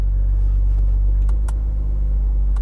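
A 2021 Audi RS5 engine idles steadily in Comfort drive mode, a loud, continuous low rumble with no revving, running alone for the whole stretch.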